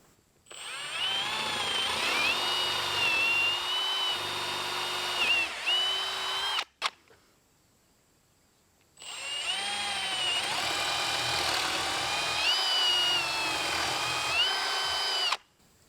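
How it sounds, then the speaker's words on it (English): Hammer drill boring holes into an insulated concrete form (ICF) wall, two long loud steady runs of whining, grinding drilling separated by a short pause, close by with no talk. "we're going to go ahead and test this out with the hammer drill and see which one drills an easier hole"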